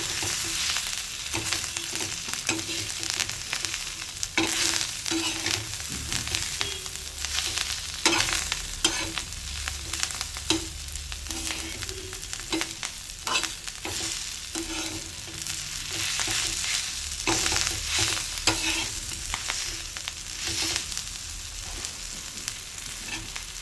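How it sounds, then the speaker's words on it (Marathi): Fresh coriander stirred and roasted on a hot pan with the gas turned off, with soft sizzling and repeated scraping and stirring strokes of a spatula, close and steady, no talking. "गरम तव्यावर कोथिंबीर फक्त 1 सेकंदासाठी अशी परतून घ्यायची आहे"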